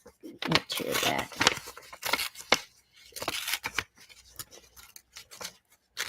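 Vintage music paper is ripped by hand, with several sharp tearing strokes and papery rustles, close and soft. A voice talks quietly in places.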